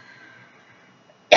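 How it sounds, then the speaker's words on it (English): A single short, sharp cough from a person on oxaliplatin chemotherapy bursts out right at the end, after a second of near silence with only faint background hum. "I would give anything for 1 day not to cough."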